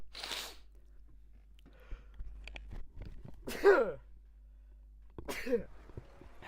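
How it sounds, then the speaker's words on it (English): Two sharp sneezes stand out in a quiet room, preceded by a short burst of breath and a few small rustles and clicks. "Removing the headset while I sneeze is quite good for stopping the noise being loud"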